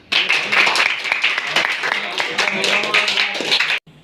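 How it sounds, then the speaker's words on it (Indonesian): A class of students claps hands together in a classroom, producing a dense, loud burst of clapping that runs for several seconds and then stops abruptly, with voices mixed in. "Tepuk tangan."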